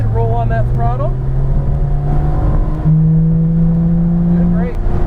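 A Porsche GT3 RS Weissach drives flat out on a race track, its engine pulling loud and steady with a rising, sustained tone. The clip contains no speech.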